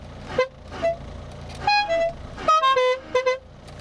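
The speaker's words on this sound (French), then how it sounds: "j'ai jamais testé le klaxon, mais je m'attendais pas à ça" Horn of a 1989 Citroën AX GT 1.4i, sounded in a series of short, bright toots, some in quick bursts, loud and close with no talking.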